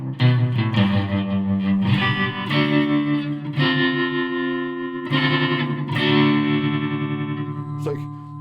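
An electric guitar runs through the acoustic wah effect of a Zoom 606 multi-effects pedal, with several strummed chords ringing out in turn, each one sweeping in tone and sustaining up close.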